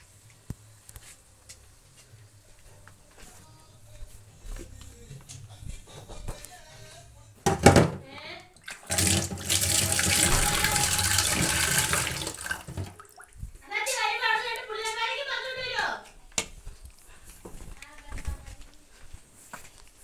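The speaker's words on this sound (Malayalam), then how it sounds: "വെള്ളം ചേർക്കണം നമുക്ക്." Water is poured into a curry of onion and chilli in a pot, a few seconds of loud splashing and rushing close by, with talk and clattering kitchen sounds before and after.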